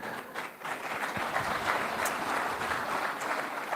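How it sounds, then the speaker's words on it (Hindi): Audience applause at an Amar Ujala Samwad Uttarakhand event, a steady, fairly faint wash of clapping from a crowd lasting throughout, with no talk over it. "देखिए आपने ताली बजवा दी।"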